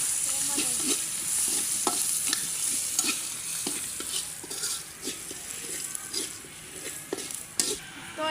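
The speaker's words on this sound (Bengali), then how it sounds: "আমার কিন্তু পেঁয়াজটা প্রায় ভাজা হয়ে গেছে" Onions frying and sizzling in a pan for a tempering of village-style lentil curry, with a steady hiss and repeated scraping stirs of a spoon across the pan, close and continuous throughout.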